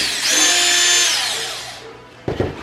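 A cordless power drill in a kitchen spins up with a loud, high whine close by, holds steady, then winds down, followed by a short handling clatter.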